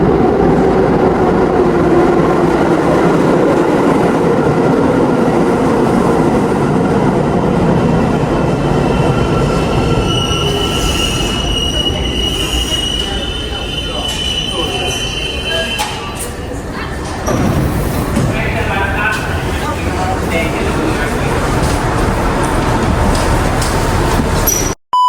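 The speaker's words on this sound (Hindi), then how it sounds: "मैं ट्रेन से अगले स्टॉप पे उतर गया" A New York City subway train running through Brooklyn, a loud steady rumble of wheels on rails with clattering and high metallic squeals, easing briefly before surging again, while someone speaks over it.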